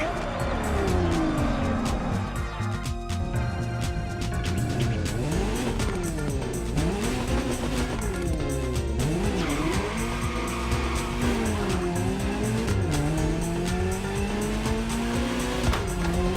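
A Ferrari Enzo supercar drives in The Crew Motorfest racing game, its engine revving loudly and continuously. The pitch climbs and drops through repeated gear shifts, with tire squeal mixed in.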